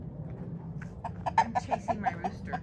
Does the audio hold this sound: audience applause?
no